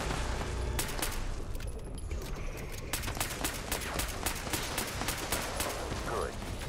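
Rapid gunfire in the Fallout 76 video game, a dense stream of loud shots rattling continuously over a busy background, with a voice talking during it.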